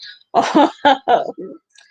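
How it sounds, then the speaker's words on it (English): A few harsh, close coughs in quick succession, followed by a softer throaty sound, loud against an otherwise quiet background. "What's up with that cough?"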